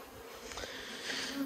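Honey bees humming at an open hive, a faint steady buzz with a few nearer bees passing close by, brief and without voices.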